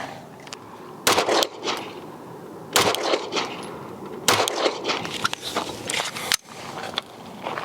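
A rifle topped with a Holosun SCRS optic fires sharp, loud reports at an outdoor range, roughly three main shots spaced a second or two apart, with echoing tails and smaller clicks and handling noises between.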